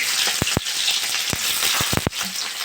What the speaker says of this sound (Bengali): পেঁয়াজ আর কাঁচা লঙ্কা দিয়ে দিয়েছি, এটা একটু ভেজে নেবো